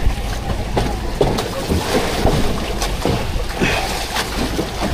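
A boat rides a rough, wavy sea, with loud continuous wind and engine rumble and irregular thumps and splashes of water against the hull.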